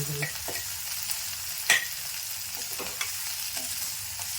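Drumstick flowers sauté in a pan with salt and chili for a drumstick flower egg stir-fry, a soft continuous sizzle broken by a few spatula scrapes and taps, close and fairly quiet.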